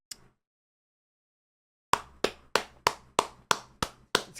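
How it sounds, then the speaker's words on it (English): A single person clapping slowly, about eight sharp, close, evenly spaced claps after a short pause, as a round of applause for a woman. "Let's give a round of applause to this woman."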